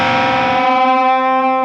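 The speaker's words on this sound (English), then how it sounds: "it's just kind of standard distortion. And it starts off with this awesome bend." Electric guitar through standard distortion plays a single three-quarter bend, loud and sustained, the note rising then ringing out alone.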